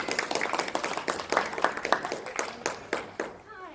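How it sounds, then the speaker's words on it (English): An audience at Connecticon 2018 claps with quick, irregular hand claps throughout, which fade near the end, while a voice talks over it. "Clap your hands right now."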